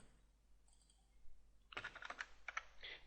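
Quick burst of keystrokes as numbers are typed on a computer keyboard, a cluster of sharp close clicks after a quiet stretch, with no talking.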